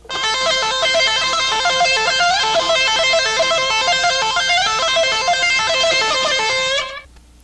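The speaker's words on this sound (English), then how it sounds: "I'm hammering with the pick, so it sounds like this." Rapid electric guitar notes tumble in a fast, steady stream of runs hammered with the pick, loud and continuous, stopping abruptly near the end.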